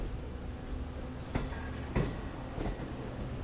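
A Long Island Rail Road Jamaica-to-Montauk passenger train idles at Speonk station with a low rumbling hum, broken by a few sharp metallic clanks and thuds.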